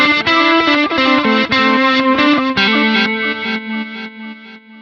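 Electric guitar runs through a Quad Cortex reverse delay with feedback and ducking off, playing a loud phrase of distorted, chorus-tinged notes whose swelling repeats overlap, then fade into a ringing tail.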